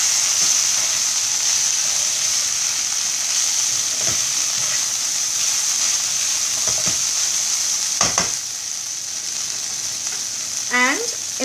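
Spiced okra (bhendi) sizzles steadily in a pan as it is stirred, a continuous close frying hiss with occasional scrapes and clinks of the spoon against the pan.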